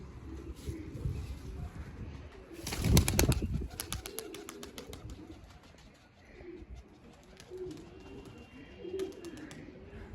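Soft pigeon coos repeat in the background, with a brief loud burst of wing flaps partway through and outdoor ambience around it.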